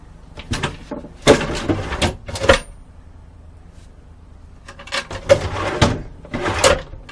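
Heavy shop drawers on newly mounted slides rolling open and shut in a workshop, with two clusters of sliding rumbles and solid thumps a few seconds apart, loud and close, with no talking.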